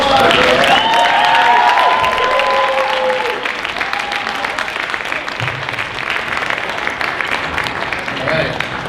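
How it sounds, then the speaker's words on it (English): A jazz invitational audience gives a big round of applause, loud dense clapping with some cheering that eases slightly after a few seconds and carries on steadily, with faint voices mixed in. "let's give it up for the big round of applause"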